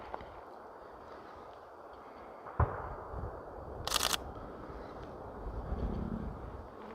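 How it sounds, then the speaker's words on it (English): A single distant gunshot outdoors on a steep hillside, booming like cannon fire, one sharp report rising out of faint ambient noise, followed by a camera shutter click and light movement sounds. "There's also somebody shooting like a cannon over there somewhere."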